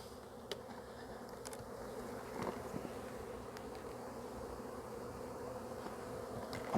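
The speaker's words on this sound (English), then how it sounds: "There's too many bees out here." Honey bees swarm around re-queened, combined hives, a dense steady buzz filling the air at close range with individual bees zipping past now and then, and no voices.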